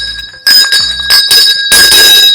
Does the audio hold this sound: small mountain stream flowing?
no